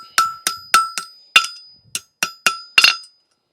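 A hammer strikes a horseshoe on an anvil during forging, with nine sharp metallic ringing blows at an uneven rhythm, loud and close with no talk.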